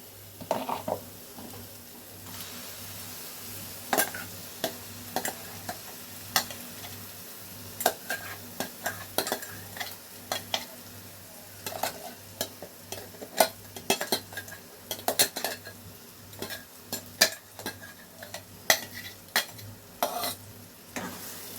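Cabbage mixture with a ground paste being stirred in a pan, a steady sizzle of frying under repeated scraping and clinking strokes of a spoon against the metal, close and fairly loud, no talking.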